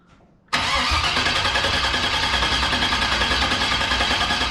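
An LS-swapped VW Bug engine with its coils unplugged cranks over after a brief quiet moment, a loud, close, rhythmic whirring churn that holds steady to the end.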